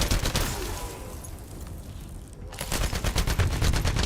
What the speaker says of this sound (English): I'm getting sniped at by that guy.